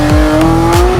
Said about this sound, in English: Today we're driving the Porsche 911 GT3 RS.